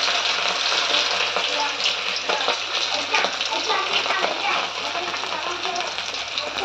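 Fish pieces frying in hot oil in a pan, a steady close hiss and crackle of sizzling that runs unbroken, with a voice talking faintly over it.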